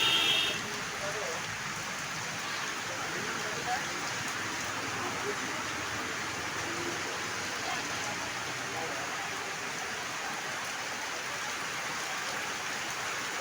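Steady rain falls over the city of Habiganj, a soft, even hiss of drops on surfaces that continues unbroken and fairly faint throughout, with no clear voices over it.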